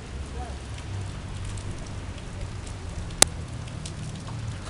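Rain patters steadily during a storm on a street in Curitiba, a soft continuous hiss with one sharp click partway through and faint background rumble.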